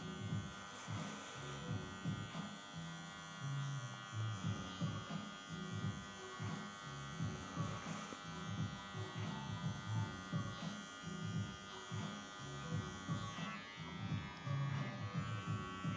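An electric hair clipper fitted with a 1.5 mm blade, used open without a guard, buzzes steadily and close while cutting hair along a line, its hum rising and falling slightly with each pass.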